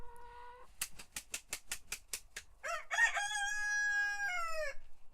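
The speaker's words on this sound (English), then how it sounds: "There's Red. She's got a lot to say today" A hen kept inside a coop gives a rapid run of sharp clucks, then breaks into a long, drawn-out squawking call, fairly faint and alone with no talk.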